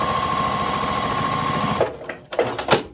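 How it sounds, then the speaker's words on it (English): Sewing machine top-stitching a shopping bag lining closed, running in a steady close whir for nearly two seconds, then stopping and restarting in short bursts with clicks between. "then we'll turn this lining piece in and just top stitch over it."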